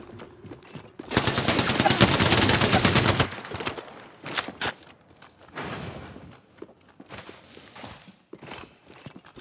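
Rapid automatic gunfire in the battle-royale shooter Apex Legends, a loud sustained burst of closely spaced shots followed by scattered single shots and game effects.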